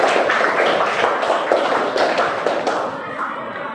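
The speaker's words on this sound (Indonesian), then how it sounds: "Ya, baik, tepuk tangan untuk Farah." Students in a classroom clap for a classmate named Farah, a brief burst of fairly loud, close applause that fades out over a few seconds.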